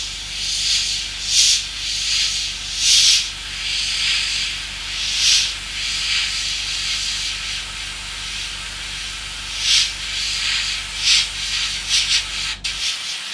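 Steady hiss of air streaming from an airbrush with no paint flowing, broken by short louder puffs as the trigger is pulled, close and alone.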